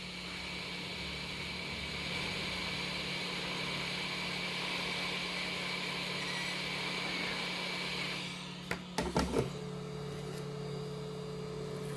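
A heat gun blows hot air onto a 3D printer hotend during cleaning, making a steady whirring hum with a thin tonal whine, then a few brief clicks and a shift to a lower, quieter drone near the end.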